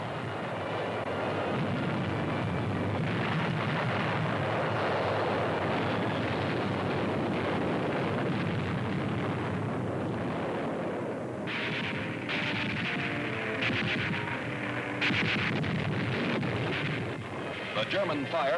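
WWII artillery fire shelling the front near Saint-Lô, a dense continuous rumble of booms and blasts under a narrator's voice, loud throughout with sharper bursts toward the end.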